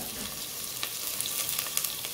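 Onions frying in a hot pan for mushroom pilaf, a steady close sizzle with faint crackles and light stirring, no talk.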